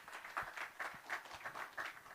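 A small audience at a business CEO summit gives a faint, brief round of applause. It sounds thin and distant, a few hands clapping in uneven bursts with no voices over them.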